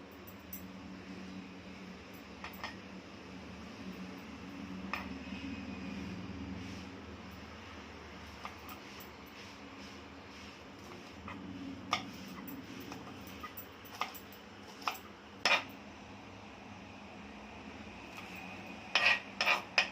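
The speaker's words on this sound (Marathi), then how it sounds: "आता हिरवी मिरची आपल्याला कापून घ्यायची वाटून नाही टाकायची" A knife cuts green chilies for a quick spinach bhaji: sparse light taps and clicks on a board, turning into a quicker cluster of sharp chops near the end, over a steady low background hum.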